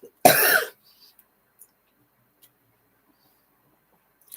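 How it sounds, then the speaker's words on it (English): A single sharp cough, close and fairly loud, standing alone against near silence, followed only by faint small clicks. "First time I coughed"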